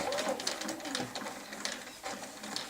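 Sewing machine stitching quilt fabric with a quarter-inch seam, a faint, steady, busy mechanical whir with rapid ticking running through the whole moment.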